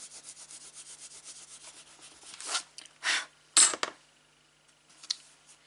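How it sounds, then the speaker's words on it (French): An eraser rubs back and forth on paper, with a quick, even run of close scratchy strokes followed by a few louder, separate swipes and then quiet. "passer un petit coup de gomme là"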